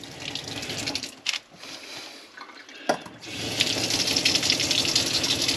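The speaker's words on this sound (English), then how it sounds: "Gotta love the noise of the old water pump." Water running from a tap fed by an old water pump, with a steady gushing flow that briefly cuts out and resumes louder, close and continuous.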